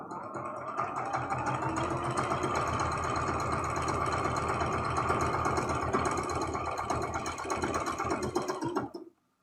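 A sewing machine stitches a seam joining rows of a heart rag quilt, running at a steady, rapid mechanical chatter for several seconds before stopping abruptly, with no talking.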